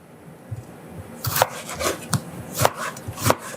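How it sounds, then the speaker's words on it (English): Knife dicing fresh tomatoes on a cutting board, a run of sharp chopping taps at an uneven pace, close and fairly loud, with no talking. "dicing my tomatoes"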